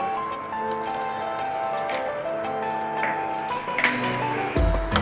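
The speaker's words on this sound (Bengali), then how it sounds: "খুব ভালো করে আমি নেড়ে চেড়ে মিশিয়ে নিচ্ছি।" A spoon clinks and scrapes against a bowl while stirring khoya kheer, a thickened milk mixture, in close light taps that end in a heavier knock.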